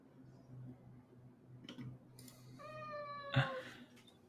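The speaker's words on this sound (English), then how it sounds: "Did your cat just make a sound?" A cat being held against her will lets out one drawn-out, complaining meow up close, preceded by faint rustling and handling noises, with a soft thump near the end.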